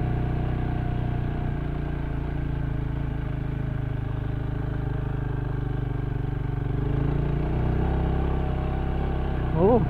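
A motorcycle engine labors steadily while climbing a slippery sandy access road, low and continuous throughout, with people talking over it.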